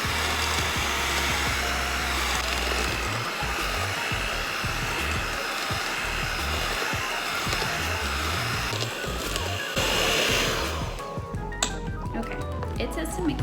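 An electric mixer whirs loudly and steadily through chocolate chip cookie dough being creamed, a constant close motor whine that cuts off near the end, leaving quieter clinks.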